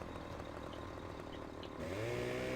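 Chainsaw engine running in the video game Farming Simulator 15, a steady buzzing drone that revs up louder and brighter toward the end.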